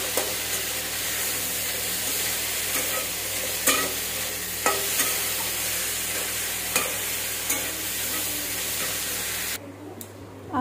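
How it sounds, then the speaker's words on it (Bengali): Okra sizzles and fries steadily in a pan while being stirred, a close, continuous hiss broken by periodic scraping clicks of the spatula before the sound drops off at the end. "এখানে দেখো ভেন্ডি সবজি বানাচ্ছি আর মাছের ভাজা আছে"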